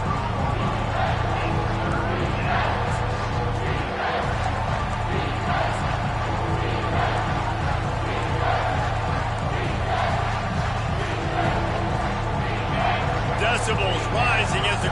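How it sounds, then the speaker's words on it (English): Stadium crowd roaring and cheering during a third-down defensive stand in the NCAA football video game, a loud, dense and sustained wall of noise throughout with commentary voices over it. "Decibels rising as the crowd gets behind this defense on third down."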